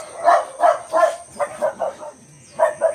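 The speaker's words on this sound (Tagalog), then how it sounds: "Ang ingay naman ng mga aso" Several dogs bark repeatedly in irregular bursts, fairly close and loud, with short pauses between volleys and no talking.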